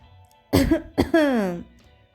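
A person gives two short close coughs followed by a drawn-out voiced throat sound, in a quiet setting.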